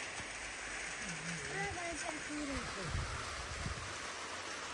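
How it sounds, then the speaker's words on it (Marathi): Heavy night rain falls outside a house, with water dripping from the eaves: a steady, dense hiss fills the whole stretch, and faint voice-like tones rise and fall underneath. "पावसाच्या पागोळ्या गळत होते ना पाऊस आला"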